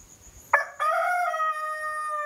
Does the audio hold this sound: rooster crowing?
yes